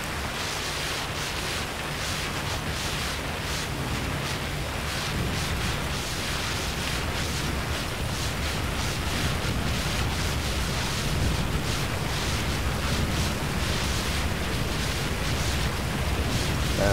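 A burning house fire in GTA 5 during a firefighter response, a steady, dense roar and crackle of flames that holds without a break throughout.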